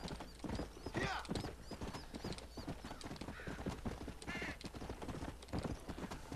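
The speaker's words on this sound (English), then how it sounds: "horsey" Horse hooves clip-clop in a steady rhythm while riding in Red Dead Redemption, close and moderately loud, with a brief whinny and some game sounds mixed in.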